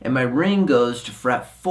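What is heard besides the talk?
None of the usual background noises is heard.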